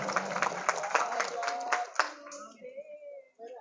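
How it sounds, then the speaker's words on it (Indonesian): An audience at a Maulid religious gathering claps hands in a quick burst of scattered applause that fades out after about two seconds, with a voice speaking over and after it. "Mantap, tepuk tangan."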